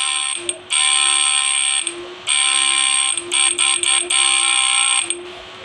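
A 10–15 ft electric fishing reel machine winds line under power, giving a steady high mechanical whir that cuts in and out in several bursts, with short pauses and quick stop-start pulses near the end; no talking.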